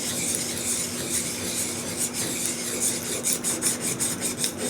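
Used flea-market chisel being sharpened on a diamond stone, a close, gritty rasping scrape repeated in steady back-and-forth strokes, with no voice over it.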